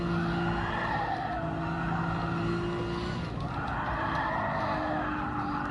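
Gran Turismo Sport racing game car skidding with sustained tire squeal over a steady engine drone, loud and continuous throughout with no voices.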